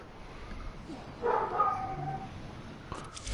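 Dogs in the Warframe video game give a short burst of barking midway through. It stands out briefly over quiet in-game ambience before fading back down.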